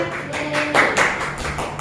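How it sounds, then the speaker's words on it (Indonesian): Hands clapping in a classroom during a microteaching practice session, several broadband bursts of applause-like claps over about two seconds, moderately loud with no talk. "Tepuk tangan."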